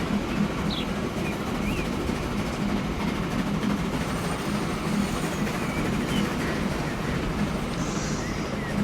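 Steam train in Transport Fever 2 rolling across tracks into sidings on the Metropolitan Railway near Aylesbury, a steady rumbling roll with faint clickety-clack and occasional wheel squeals, continuous throughout.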